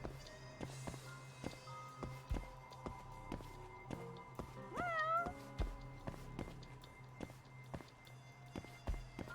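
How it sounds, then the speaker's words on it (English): A single cat meow rises clearly out of game ambience in the PS4 game Judgment around the midpoint, set against soft rhythmic footsteps and low background music. "Or there'll be a kitty just meowing."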